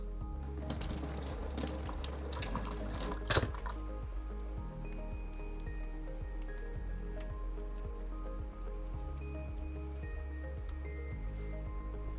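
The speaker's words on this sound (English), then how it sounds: "I'll pour hot water over this yellow film or membrane to remove it" Hot water poured over raw chicken to strip a yellow membrane, a steady splashing pour with dripping and a few clinks, strongest in the opening seconds with a sharp knock near three seconds, then continuing softer and wet.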